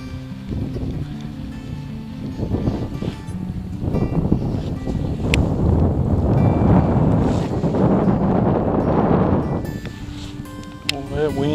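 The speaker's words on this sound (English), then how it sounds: "that wind is getting up on us, folks." Strong wind gusting across a microphone on a fishing boat at sea, a loud rumbling buffet that swells for several seconds, with people talking underneath.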